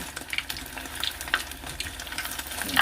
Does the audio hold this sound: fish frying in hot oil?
yes